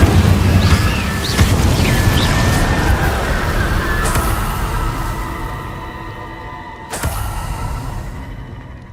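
Fiery Incendio spell blasts in the Hogwarts Legacy game: a loud booming burst with crackling fire that slowly fades, then a second sharper burst near the end, no talk.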